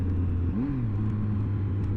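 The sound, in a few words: Triumph Speed Triple three-cylinder motorcycle engine running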